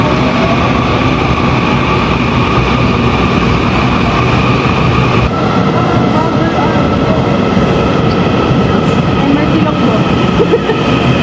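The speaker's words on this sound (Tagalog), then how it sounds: "It's ordinary train." Loud, continuous rumble and roar of an ordinary passenger train on a Taiwan rail line as it pulls away, a steady dense wash of rail noise with a faint tonal hum and no clear speech.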